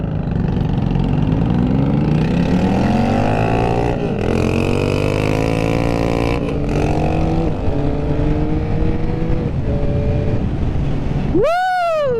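A 2022 Yamaha MT-09 motorcycle engine revs at quarter throttle, loud and close, with pitch rising and falling across several throttle blips over a steady running drone, ending in a sharp upward sweep.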